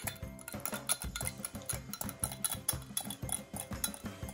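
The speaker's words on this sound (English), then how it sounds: "next we are going to kind of whisk out or spoon out our yogurt" Yogurt being spooned out with cutlery, a steady run of light metallic clinks and taps against a dish, close and fairly soft, with no talking.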